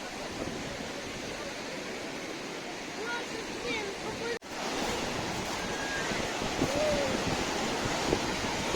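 Mediterranean Sea waves wash onto Ga'ash Beach in a steady broadband surf roar with some wind buffeting the microphone, nearby and fairly even, with a brief dip midway.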